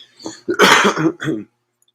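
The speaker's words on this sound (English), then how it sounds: "Corona cough." A person coughs several times in quick succession, close and fairly loud, the bursts tapering off into silence.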